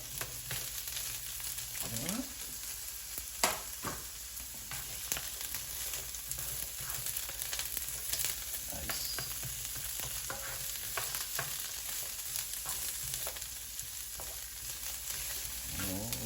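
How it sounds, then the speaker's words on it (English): Onions and peppers sizzle and crackle steadily in a hot pan, with occasional clinks and stirring sounds, close and continuous without talking. "It's sizzling up."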